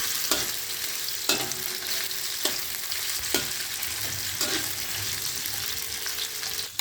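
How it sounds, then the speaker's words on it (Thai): Fish strips frying in hot oil with a steady bubbling sizzle, punctuated by several sharp spatula clacks against the pan at irregular intervals, close up and without speech. "จากนั้นเราก็ เอาปลาเส้นลงไปทอดเลยครับ"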